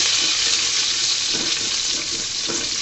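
Four cloves of chopped garlic fry in hot oil, a loud, steady sizzle with a few soft stirring scrapes mixed in, close and continuous.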